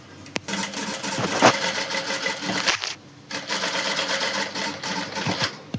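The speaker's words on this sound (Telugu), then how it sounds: "నేను పై వైపున కుట్టు వేస్తున్నాను" A sewing machine runs steadily while stitching the neckline of an umbrella frock, a continuous dense mechanical whir with a brief pause near the middle before it resumes, close and fairly loud, with no one talking.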